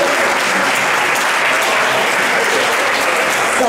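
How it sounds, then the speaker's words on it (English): A crowd at a high school class reunion claps their hands, producing a loud, dense, continuous wall of applause that holds steady from start to finish with no talking on top. "I want everybody to stand up and just clap your hands just for being here."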